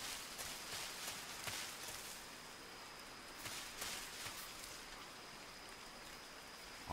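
Steady rain falling in the jungle of the video game Metal Gear Solid 3, a soft, even hiss of drops with a few slightly louder spatters, faint and continuous, with no voices.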